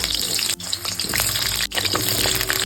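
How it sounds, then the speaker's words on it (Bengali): Potatoes fry in hot mustard oil with turmeric and salt, crackling and sizzling loudly and continuously, with brief dips as they are stirred. "এবার আলুগুলো একদম লাল লাল করে হলুদ এবং লবণ দিয়ে ভেজে নেব"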